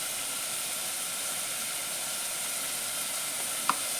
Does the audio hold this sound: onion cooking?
yes